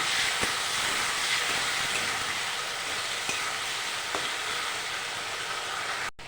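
Cumin, coriander, ginger, green and red chillies, salt and turmeric sautéing in a pan, a steady dense sizzle that runs evenly throughout with a few faint stirring taps, ending in a brief abrupt cutoff.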